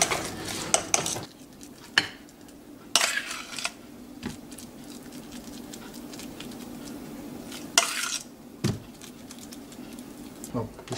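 A spoon stirs a thick pinto bean curry with sour cream in a pot, making soft scraping and sloshing with several sharp knocks against the pot's side over a low simmering hiss.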